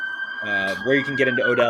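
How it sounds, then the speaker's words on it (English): Emergency vehicle sirens wail steadily in the city, a sustained tone sitting under someone talking close by. "Apologize for the sirens."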